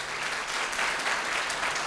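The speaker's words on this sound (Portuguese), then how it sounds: "Você pode dar uma salva de palmas para o Senhor Jesus?" Congregation applause at a church anniversary service, a continuous dense wash of many hands clapping at moderate distance, with no voices over it.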